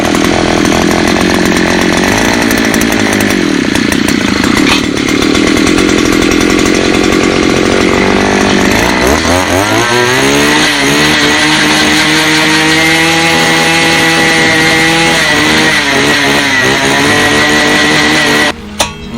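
A 4 horsepower two-stroke Nippon chainsaw runs loud and steady, warming up at first, then climbing into sustained revving with rising and falling pitch before cutting off abruptly at the end.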